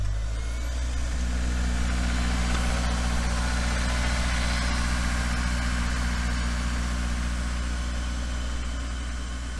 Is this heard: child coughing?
no